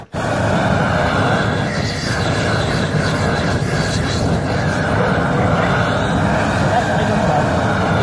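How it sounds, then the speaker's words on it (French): A gas thermal weed burner torch, fed from a gas bottle, is lit and roars loudly and steadily at close range. The roar starts almost at once and runs unbroken throughout. "pour le désherbeur thermique, on allume la bouteille."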